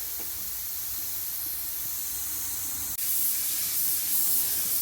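Aerosol adhesion promoter hisses steadily from a spray can in a light dusting coat over plastic F-150 truck trim, with the close, continuous spray briefly cut off and then resuming slightly louder.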